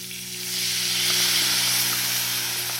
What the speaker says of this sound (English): Then I stir fry some onion.